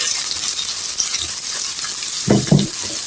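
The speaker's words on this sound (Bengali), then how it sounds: "এখন আমি রসুন আর পেঁয়াজগুলো ভালো করে ভেজে নেব।" Garlic and onions frying in oil in a frying pan, a steady broadband sizzle throughout with two short louder bursts of stirring or clatter near the end.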